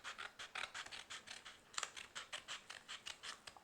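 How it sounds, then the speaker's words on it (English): Multi-purpose scissors cutting along the back of a paper banner, a close, faint series of regular crisp snips and rasping slices repeating in a steady rhythm, with no talk. "I'm just going to take my multi-purpose scissors"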